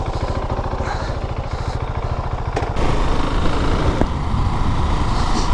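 A Husqvarna Svartpilen 701 motorcycle rides along with a loud, steady engine drone that rises in pitch partway through, heard close up with a continuous throaty pulse and road noise.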